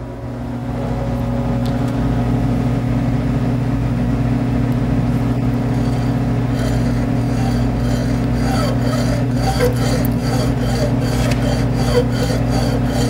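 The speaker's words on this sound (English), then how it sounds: "I've got just a simple hacksaw here um, and we're going to uh, just gently start to do a straight line through the golf ball" A simple hacksaw saws a straight line through a golf ball. Faint, rapid rasping strokes sit over a loud, steady low hum that runs throughout, and no one speaks.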